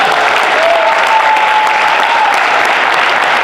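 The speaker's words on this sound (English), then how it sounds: "give yourselves a round of applause for being fans of Rhode Island Comic Con" A convention audience at Rhode Island Comic Con breaks into steady applause, a dense, even wash of clapping filling a panel room for several seconds, with a faint whistle or tone running through it.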